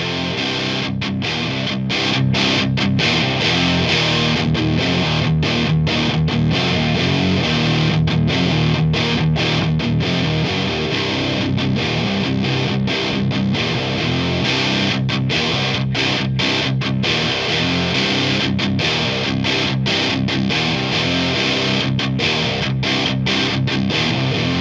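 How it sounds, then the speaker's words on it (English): An electric guitar played through a Joyo Splinter distortion pedal, a Rat-style clone, gives a thick, saturated, continuous tone. Chords ring out loud and sustained, broken by brief choppy pauses between strums, with no talking. "Thanks for checking out my demo video of the Joyo Splinter Distortion."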